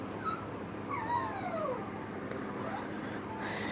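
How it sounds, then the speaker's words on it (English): A dog whines in thin, wavering high-pitched cries that slide up and down, several short whimpers over a couple of seconds against a steady background hiss, fairly close and without talk. "My mom's dog is whining"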